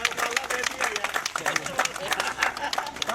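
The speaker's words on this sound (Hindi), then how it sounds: "जोरदार ताली हो जाए।" Applause and clapping from a crowd at a JMM block committee formation meeting in Bano, with a clatter of claps and a hubbub of voices in the background.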